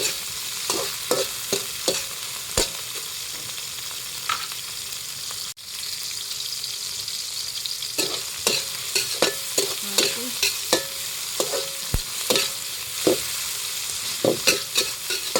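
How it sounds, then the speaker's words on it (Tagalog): Tomato, onion and garlic sautéing in a casserole for a mung bean dish: a continuous close sizzle with frequent utensil scrapes and taps, briefly dipping once, then steady stirring clatter with no voices. "pag ginigisa yung kamatis, sibuyas, saka bawang"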